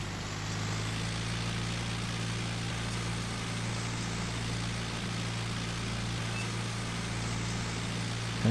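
A small tractor's engine in Farming Simulator 19, a steady low droning hum that holds at one level throughout, with no speech.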